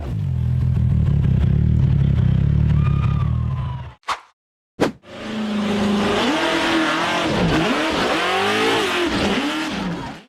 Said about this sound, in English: The silver buggy accelerated hard and charged straight up the steep concrete embankment.